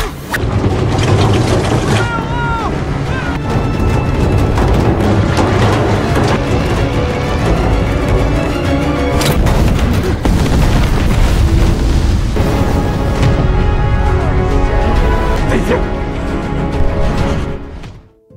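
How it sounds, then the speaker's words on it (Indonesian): Thunderous battlefield explosions and rumbling blasts in a war scene of Chinese forces fighting Americans, with tanks caught in trap trenches, forming a continuous loud, booming roar with mechanical clatter that sustains throughout before cutting off abruptly. "ledakan paling epik pun siap untuk dijalankan"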